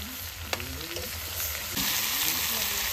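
Chopped bottle gourd drops into a hot pan with bay leaves and sizzles loudly, giving a steady close hiss of frying that swells near the end, with a few clinks and faint voices beneath.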